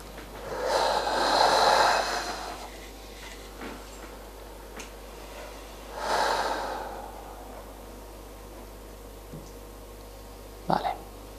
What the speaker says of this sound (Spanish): Pues volvemos a hacer una respiración.